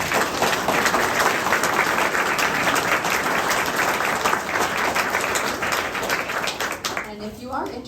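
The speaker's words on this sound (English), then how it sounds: "So if we could just give another round of applause." Crowd at a World Heritage commemoration open house claps loudly and continuously, close and dense throughout, with a voice starting to speak just as the applause ends.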